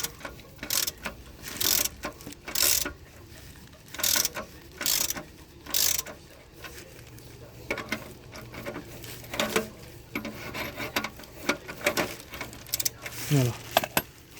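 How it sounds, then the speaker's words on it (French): A ratchet wrench with a 21 mm socket loosening the oil drain plug on a Citroën C4 Grand Picasso, giving a series of close, sharp ratcheting clicks in repeated bursts with pauses between strokes. "J'ai une clé à douille de 21 qui va venir s'adapter et je prends ma clé à criquet."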